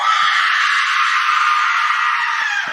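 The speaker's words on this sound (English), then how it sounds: "it's a scream." A loud, sustained high-pitched scream sound effect, one unbroken shriek that holds steady for a few seconds.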